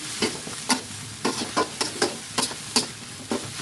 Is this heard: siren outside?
no